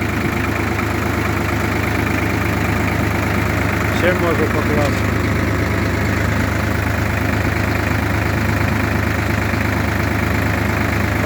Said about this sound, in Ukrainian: Трактор працює